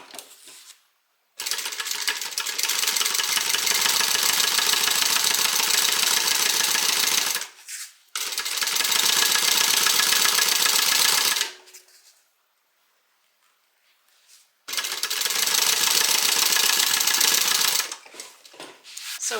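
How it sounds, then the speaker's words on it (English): A sewing machine stitching a seam on a fabric hobo shoulder bag, running in three long continuous buzzing bursts separated by short pauses, loud and close with no talk. "We're going to stitch, and then we'll top stitch."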